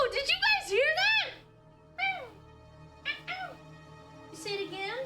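A pet cat meows repeatedly up close: a run of rising and falling meows, then several shorter calls after pauses, mixed with excited human talk.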